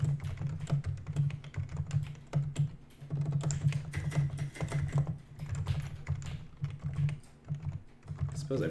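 Computer keyboard being typed on while writing C++ code, a close, steady stream of quick key clicks in irregular bursts with short pauses, no speech.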